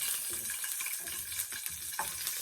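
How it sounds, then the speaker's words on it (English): Asparagus spears fry in a pan beside steak, giving a dense, steady close sizzle with small crackles and pops. "now time for my asparagus to fry them a little bit"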